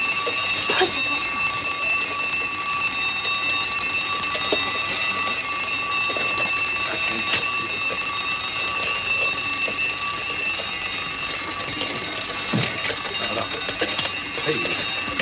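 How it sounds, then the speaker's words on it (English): A mechanical alarm clock rings close by in a bedroom, its bell clattering continuously and loudly for the full stretch, with a few faint thumps and rustles beneath. "I'll set the alarm"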